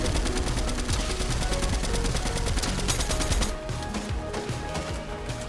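Rapid assault-rifle fire from the MK in Fortnite Reload rattles in long, dense automatic bursts, loud and close, easing slightly in the last couple of seconds.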